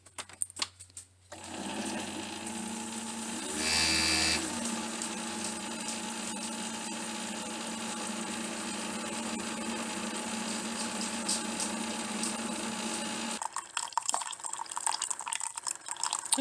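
A Keurig coffee maker brews its largest cup close by, a steady pumping hum with gurgling liquid that starts abruptly, swells briefly near the beginning, then cuts off toward the end, leaving faint clicks and handling noise.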